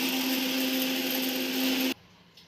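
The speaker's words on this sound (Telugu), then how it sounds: "ఇలాచి, లవంగ, ఆకు ఇలాంటివన్నీ మిక్సీ పట్టుకోవాలి." An electric mixer grinder powders cardamom, cloves and bay leaves with a loud, steady motor whine that holds for about two seconds and then cuts off abruptly, leaving faint room noise.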